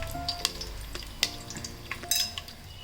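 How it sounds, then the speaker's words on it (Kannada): Curry leaves hit hot oil in a pressure cooker and set up a steady, soft sizzle, broken by a few sharp pops and metallic clinks of a stirring utensil, close but fairly quiet. "ಈಗ ಕುಕ್ಕರಲ್ಲಿ ಎಣ್ಣೆ ಹಾಕಿ ಎಣ್ಣೆ ಕಾಯಕ್ಕೆ ಇಟ್ಟಿದ್ದೀನಿ. ಎಣ್ಣೆ ಕಾಯ್ತಾ ಇದೆ. ಈಗ ಇದಕ್ಕೆ ಫಸ್ಟು ಕರಿಬೇವು ಹಾಕೋತೀನಿ."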